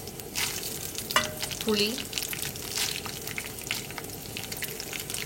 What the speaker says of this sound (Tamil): இப்போது கடலைப்பருப்பு பாதி ஃப்ரை ஆயிடுச்சு.